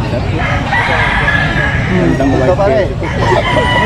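White Kelso gamefowl roosters crowing in a busy outdoor pen, a drawn-out cock-a-doodle-doo ringing over a dense background of other birds and general noise.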